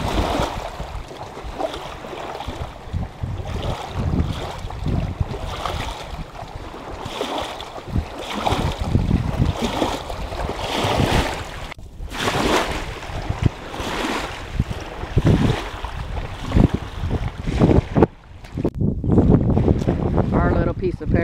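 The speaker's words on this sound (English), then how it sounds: "Listen to the lake coming up." Lake water and gusting wind along a lakeside nature trail, with a continuous rushing wash of waves and heavy wind buffeting the microphone, loud and close throughout, with faint talk mixed in.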